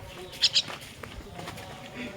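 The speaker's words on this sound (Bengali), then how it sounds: "দেখুন পাখিটা ডাকতেছে একবার ছোট পাখি" Two quick, sharp chirps from a small common myna ring out close by, followed by faint background murmuring and soft talk.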